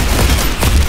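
Grenade blast in the Roblox shooter Counter Blox, a loud, dense burst of booming gunfire-like noise filling the whole second at close range.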